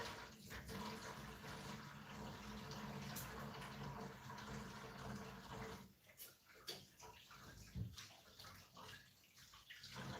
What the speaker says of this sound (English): now I get to wash my hands again